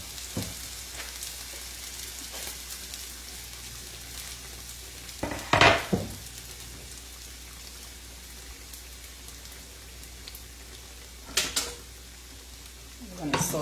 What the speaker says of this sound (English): I'm going to saute this for a bit.